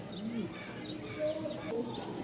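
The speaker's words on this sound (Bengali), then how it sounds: "এই হচ্ছে মেলের ডাক দেখাই একটু আপনাকে" A male fancy pigeon coos in short, low repeated calls, fairly quiet against a busy background of other chirping birds, with a faint voice also present.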